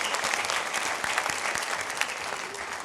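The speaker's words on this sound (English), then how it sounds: "Let's give another round of applause to Mr. Oyster Blakey and Mr. S.A. Songa." Steady applause from a primary school audience at a jazz band concert, honouring the teachers, a dense even wash of clapping with sharper individual claps standing out throughout.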